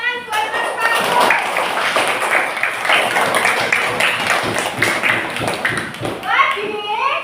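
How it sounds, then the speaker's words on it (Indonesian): Students in a classroom clap for a classmate during a lesson, a steady patter of hands lasting several seconds. Children's voices chatter throughout, close and fairly loud. "Beri tepuk tangan buat Mas Makmur."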